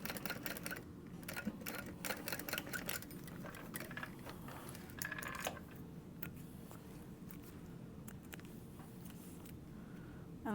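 A sewing machine stitches on a bag, giving a continuous mechanical clatter with rapid ticking and irregular bursts over a steady low hum, close and moderately quiet.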